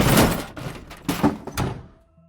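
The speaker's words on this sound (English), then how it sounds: "another door down the hall fling open, throwing things out before slamming shut" A door is flung open with a thud, rattles, and is slammed shut, giving a few loud, close impacts over about two seconds before everything falls quiet.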